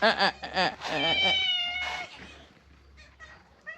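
A cat gives several clear, close meows, a quick pair of short cries followed by a longer drawn-out wavering yowl, then quieter faint mews trailing off.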